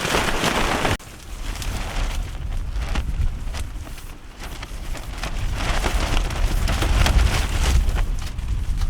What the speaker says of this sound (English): just in time before the rain front is moving